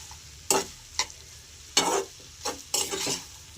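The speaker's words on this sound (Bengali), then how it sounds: "এটাকে একটু নাড়াচাড়া দিয়ে ভালো করে একটু কষিয়ে নিয়ে" Egg curry masala is stirred and sautéed in a pan for an egg tarka, with a steady low sizzle broken by several sharp scraping stirs, close and without talk.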